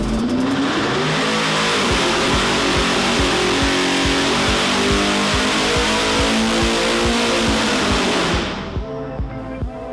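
A ProCharger F-1A-94 supercharged 427ci LSX engine roars at full power for several seconds with a high, sustained supercharger whine and rising pitch, loud and close, then cuts off abruptly near the end.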